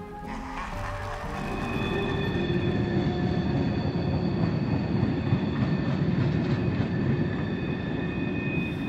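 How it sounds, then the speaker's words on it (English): A train rolls along the tracks in cold, still winter air in Winnipeg, Canada, a continuous loud rumble with steady clickety-clack and faint high wheel squeal, heard alone without voices. "Do you hear that train clacking along the tracks?"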